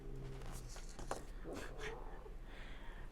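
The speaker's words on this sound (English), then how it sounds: "Uh-oh, cat fight." Cats fighting indoors, with low growling and yowling, faint and slightly distant, over steady background noise and without any talking.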